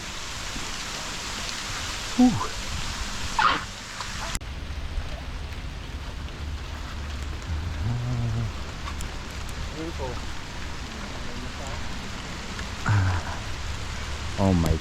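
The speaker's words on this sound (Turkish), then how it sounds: "Yağmur gitgide sertleşiyor abi." Steady heavy rain patters across the whole clip on Koh Tao island, Thailand, with a brief grunt and some movement noises near the start.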